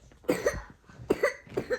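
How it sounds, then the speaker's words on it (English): Three harsh coughs in quick succession, close and fairly loud, with short pauses between the bursts. "Uh-oh. You got a cough."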